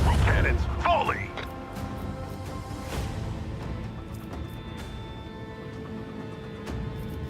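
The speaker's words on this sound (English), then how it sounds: "Macro cannons, volley!" Macro cannons of a starship fire a volley in Warhammer 40000 Rogue Trader, a loud booming burst that fades into rumbling mechanical battle noise, with voices over it.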